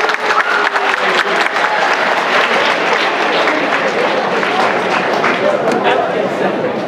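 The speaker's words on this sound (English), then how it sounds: "another wonderful round of applause, please" Sustained applause from an audience at a mock debate event, a steady dense clapping wash with some voices mixed in underneath.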